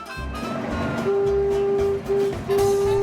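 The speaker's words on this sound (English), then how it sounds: "First we went on the steam train and rode around Whiteman Park." A steam train at Whiteman Park rumbles and rattles along the track, loud and close, with a steady whistle tone that sounds in broken blasts toward the end.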